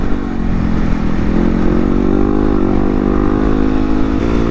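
A 2016 Yamaha WR250R motorcycle is ridden with its engine droning loud and steady, the pitch rising slightly as it accelerates.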